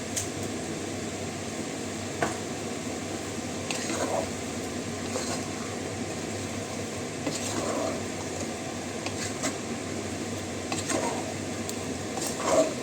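A methi chicken spice mixture is stirred in a pan with a low, steady sizzle and occasional scraping strokes of a spoon. A faint fan-like hum runs underneath, and no one speaks.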